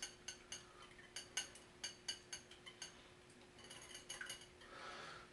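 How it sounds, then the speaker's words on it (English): Eggs being whisked in a bowl for a deep-fry batter, heard as quick, light metallic clinks and taps in an uneven rhythm, close and fairly quiet. "let's whisk some eggs up for the deep fry mix"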